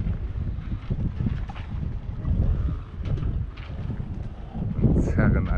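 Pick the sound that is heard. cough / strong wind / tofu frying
strong wind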